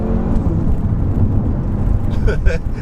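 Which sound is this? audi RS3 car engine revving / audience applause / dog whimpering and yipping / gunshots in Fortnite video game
audi RS3 car engine revving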